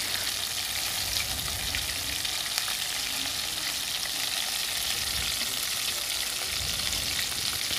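Chicken leg pieces fry steadily in a pan, a dense continuous sizzle that runs close and even throughout, with no talking over it.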